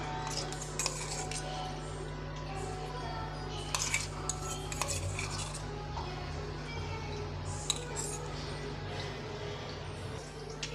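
A spoon clinks and scrapes against a glass as masala buttermilk is stirred, soft and close over a low steady hum.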